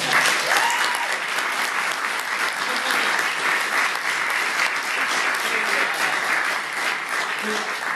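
An audience at a university debate gives a loud, dense round of applause that stays strong and steady for the whole stretch.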